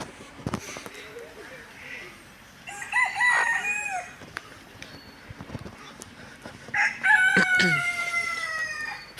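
Chickens and a rooster at a restaurant's animal enclosure: scattered clucks and thuds, then two loud crowing calls rising over the outdoor ambience, with a voice talking briefly in between.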